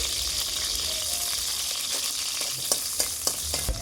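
Chopped onion sizzling in hot oil in a pan while cooking fenugreek greens with katla fish, a steady bright hiss with a few sharp spatula taps near the end, close and without talking.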